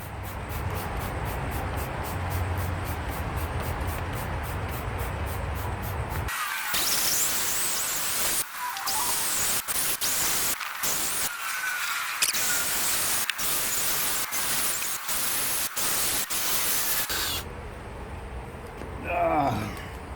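A 1998 Honda Prelude headlight is sanded by hand-held power tool with a 1500 grit disc, giving a steady whirring, gritty scrub broken by brief stops and restarts.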